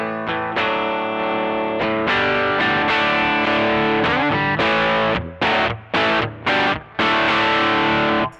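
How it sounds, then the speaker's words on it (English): Electric guitar with the volume knob rolled back into a Trex Dual Drive pedal for a lighter overdrive, ringing chords giving way to short choppy stabs near the end, loud and alone. "I can just roll my volume back on the guitar to get a lighter overdrive sound."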